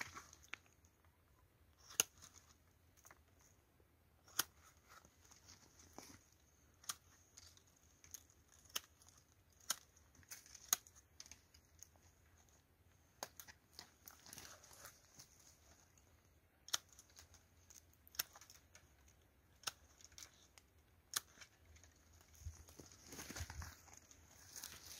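Pruning shears make quiet, sharp snips while cutting plum tree branches. The faint clicks come irregularly over about twenty-five seconds, with light rustling and handling noise between cuts.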